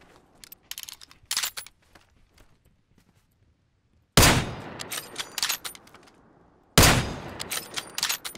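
Gunshots in a multiplayer video game battle, with scattered quieter shots and then two loud, sharp close bursts that each ring out briefly, separated by pauses.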